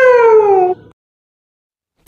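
A single cat meow, clear and close, lasting under a second with a falling pitch, followed by silence and a brief click at the end.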